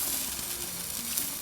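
Chicken in an oily sauce sizzling on a grill, a steady close crackling hiss that runs without a break and with no talk over it.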